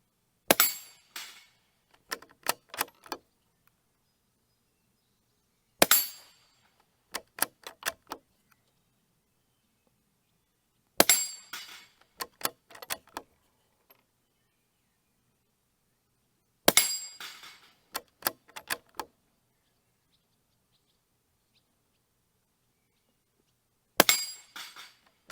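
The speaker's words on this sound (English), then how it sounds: "Now we're going to shoot the steel plates under thermal." Shots hit steel plates at a shooting range in five separate bursts, each a sharp metallic clang followed by a few quicker pings, with long silent gaps between bursts.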